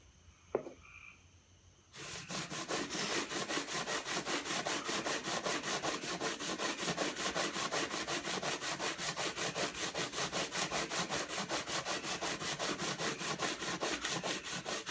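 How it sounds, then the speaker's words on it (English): Laser-cut flap parts are sanded by hand to put a bevel on them, starting after a quiet moment, then a fast, even rhythm of close, rasping back-and-forth strokes that continues steadily throughout. "Right now what we're doing, we're sanding in this direction."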